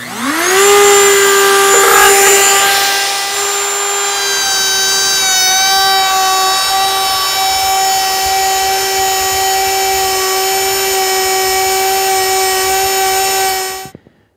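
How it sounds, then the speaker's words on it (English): A wood router cutting finger grooves along the side of a wooden handrail gives a loud, steady high whine that spins up and holds for about thirteen seconds, then cuts off, with no talking. "Now it's time to switch on the router and start making sawdust using the bit that forms the finger grooves on the side of the handrail."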